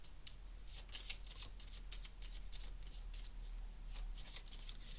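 Oracle cards are shuffled repeatedly in a quiet room, giving a run of soft, close riffling bursts with no talking.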